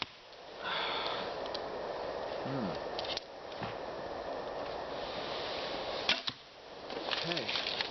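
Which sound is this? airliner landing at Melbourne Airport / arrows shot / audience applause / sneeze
arrows shot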